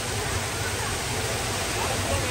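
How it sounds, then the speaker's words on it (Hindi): Artificial waterfall at Expo 2020 Dubai, a loud, steady broadband rush of falling water filling the whole clip without pause. "ये पूरा मेरे पीछे वाटरफॉल है, ये चेक करें।"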